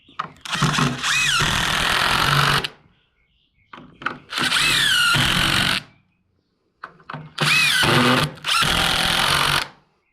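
A power drill drives screws into wooden mobile home steps, whirring in three loud, close bursts of about two seconds each, separated by short quiet pauses.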